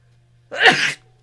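A single sharp, close sneeze bursts out, lasting under a second, against a quiet background.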